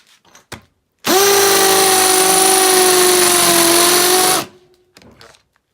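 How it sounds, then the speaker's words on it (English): A regular Makita hammer drill bores into wood with a spade bit, one sustained high whine lasting about three seconds at a steady pitch that sags slightly as it cuts, with brief clicks before and after. "We'll start off with the regular hammer drill."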